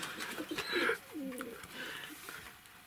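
Pigeons cooing nearby in a few soft, rounded phrases, with faint background noise and no talking.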